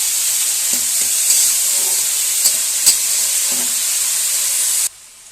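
Spinach curry sizzles steadily in a pan with a broad hiss, broken by a few soft scrapes and taps of a spoon as it is stirred, then cuts off abruptly near the end.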